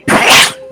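One sharp, loud sneeze bursts out close by, breathy and short, then cuts off quickly into quiet.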